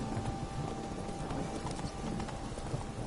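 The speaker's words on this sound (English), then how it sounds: "Whoa there, Roach." A horse's hooves clip-clop at a steady trotting rhythm in The Witcher 3 video game, close and continuous under ambient game sound, with no speech.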